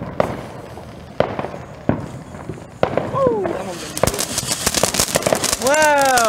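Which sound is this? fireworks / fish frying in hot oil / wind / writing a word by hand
fireworks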